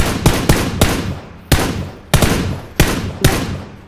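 Loud, close bursts of video game gunfire, about seven sharp shots in uneven rhythm, each cracking then trailing off, with no talking.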